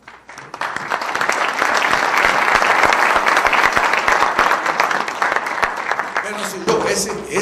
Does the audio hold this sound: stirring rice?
no